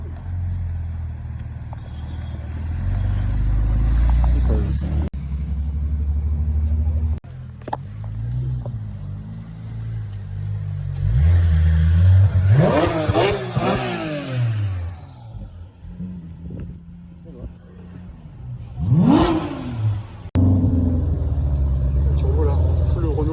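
Turbocharged three-door touring rally car at the Paris rally, 2023, revving in several rising and falling bursts, loud and near, over a low rumbling idle with people talking in the background.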